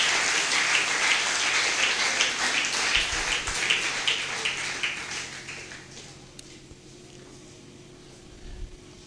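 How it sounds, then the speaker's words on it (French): A church congregation applauds steadily and fairly loudly for several seconds, then the clapping thins out and fades to a quiet room with a couple of soft thumps. "On nous applaudisse"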